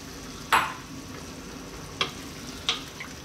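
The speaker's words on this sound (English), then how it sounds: "We're now going to go to a nice low simmer" A pot of mutton curry sizzles under a low hiss, with three sharp bursts of frying or stirring at irregular intervals and no talk.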